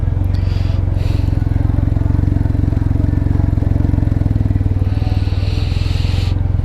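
A 2022 Can-Am Ryker 900 three-wheeler with its aftermarket Silverbird Turbo exhaust removed, its engine droning steadily and loudly at cruising speed while riding, with wind rush and a brief spoken word.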